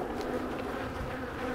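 Bees from a tiny swarm buzz inside a weak hive, a steady close insect hum with faint individual flybys and no voices.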